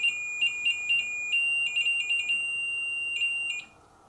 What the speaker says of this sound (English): can you make this beep just like you did?